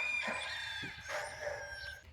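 Chickens let out of their enclosure on a farm call out near the microphone, a rooster-like crowing phrase mixed with clucks, fairly faint and set against quiet outdoor background.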